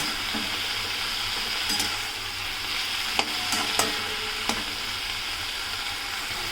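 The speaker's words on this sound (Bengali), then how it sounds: "দিয়ে এবার ভালো করে নেড়ে চেড়ে শাকটাকে কষিয়ে নেব" Fourteen kinds of leafy greens stir-fry with turmeric powder and grated ginger, producing a steady close sizzle punctuated by a few sharp scrapes and knocks of the spatula against the pan, with nobody speaking.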